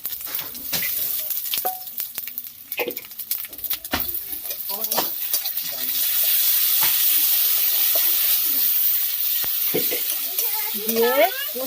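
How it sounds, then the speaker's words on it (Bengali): Ginger and garlic tossed into hot oil for a village-style Sundarbans bain fish curry, a continuous sizzle with clicks and stirring taps, a voice speaking intermittently over it. "এই আদা রসুন দিলাম তেলের উপর"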